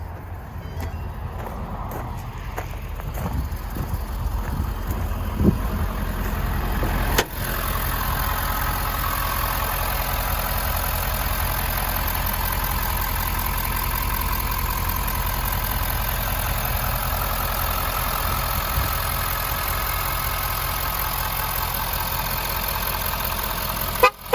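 A 2022 Ford F-250 Super Duty with a 6.7L diesel V8 and 10-speed automatic idles steadily, a close, even low rumble that holds for the whole stretch, with a brief clunk partway through and handling noises early on.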